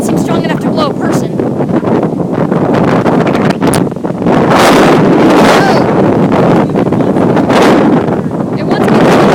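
Strong storm wind buffets the microphone in loud, continuous low roaring gusts, surging and easing throughout while a person speaks over it outdoors.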